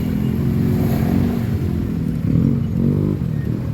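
Heavy road traffic of cars and motorcycles heading toward Taytay Falls, a dense continuous low engine rumble with revving swells, heard close and loud without speech.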